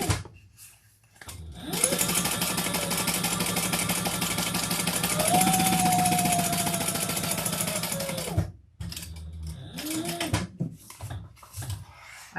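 Sewing machine basting fabric flat for a shoulder bag, running in a long close, steady rapid stitching burst of about seven seconds, followed by shorter stop-start bursts and handling clicks.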